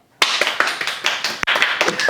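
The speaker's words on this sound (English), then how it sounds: "Everybody give him a round of applause." A round of applause from a small group, steady dense clapping that starts abruptly and carries on loud and close throughout.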